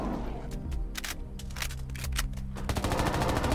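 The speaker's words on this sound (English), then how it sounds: "I'm going to shoot the guy from up here." Rapid bursts of gunfire from the 2D survival game Outworlder, a Terraria-like title, crackle in quick clusters over a steady low game soundtrack, growing denser toward the end.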